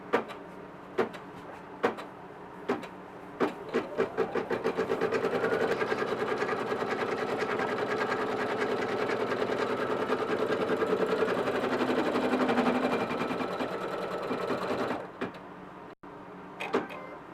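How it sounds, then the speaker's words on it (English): An embroidery sewing machine stitches a vinyl placement line for a front zip clutch bag in the hoop, starting with a few clicks, then a steady, close, rapid mechanical whir for about ten seconds before stopping. "now it's going to do the placement stitch for your vinyl on the bottom"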